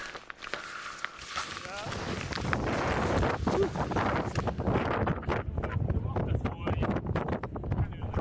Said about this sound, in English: it was pretty windy as we headed up the final slopes